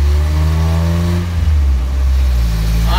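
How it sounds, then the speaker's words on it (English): A Nissan Hardbody D21 Pathfinder with a new transmission is driven on ice, its engine loud and close, revving up in pitch, dropping away during a gear shift, then climbing again. "We are now gonna go for our first test drive."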